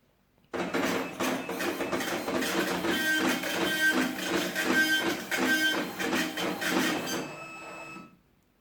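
An Epson LX-310 dot matrix printer prints an invoice, a loud close rapid rattling buzz with rhythmic pulses of head passes lasting about seven seconds before stopping.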